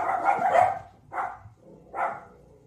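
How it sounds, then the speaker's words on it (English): Dogs in a home kitchen let out a loud bark followed by two shorter barks, fairly close, with no talk over them. "sorry, those are my dogs."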